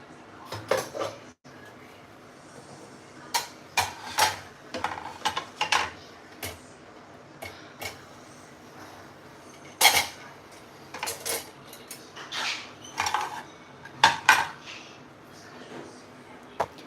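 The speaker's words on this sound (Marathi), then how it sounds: "किचन क्लीन करते हैं भांडे वॉश करती है" Dishes, pots and cutlery clink and clatter in a home kitchen during washing up, with scattered sharp knocks and rattles coming close and fairly loud, some voices murmuring faintly in between.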